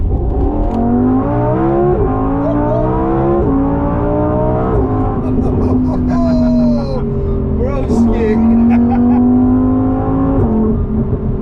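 Lamborghini Huracan V10 revving hard and climbing through gears, the engine note rising in repeated sweeps broken by quick upshifts, loud and close from inside the car, with a voice speaking briefly over it.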